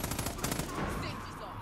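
Far Cry 5 gunfire on PS4 Pro comes as a rapid burst of automatic shots in a quick pulsing rhythm, loud and close, then trails into a rougher, dense wash of noise.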